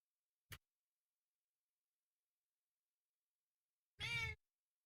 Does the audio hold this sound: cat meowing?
yes